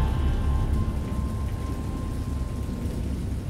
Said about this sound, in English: I heard pearls of thunder and other tones which nature utters only in her wildest moods